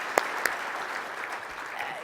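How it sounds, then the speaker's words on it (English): A meeting audience gives a plenary session's coordinator a round of applause, a soft, even wash of clapping with a couple of sharper claps at the start. "I'd really like to have a round of applause for Christina and this wonderful meeting."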